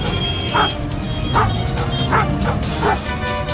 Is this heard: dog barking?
yes